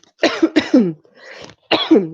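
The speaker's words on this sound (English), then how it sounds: "Excuse me, I'm going to cough." Three quick harsh coughs close together, a short breathy pause, then one more cough, loud and close with no talking.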